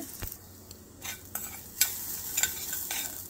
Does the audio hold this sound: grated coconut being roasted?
yes